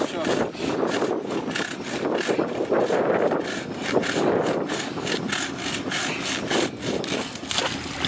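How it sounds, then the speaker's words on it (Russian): A saw cutting through a tree branch: steady rhythmic back-and-forth rasping strokes, close and continuous, with a voice faintly audible under the sawing. "Как тут пилим, дерева мало"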